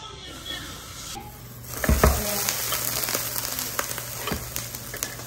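Venezuelan dish sizzling in a pan, the frying hiss growing louder with sharp crackles and a few stirring scrapes, close by.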